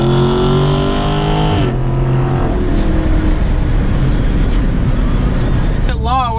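A car with a 6.4 engine and 3-inch exhaust piping roars loudly nearby, its engine drone falling away after a couple of seconds into a steady, rough exhaust and road rumble. Someone talks near the end.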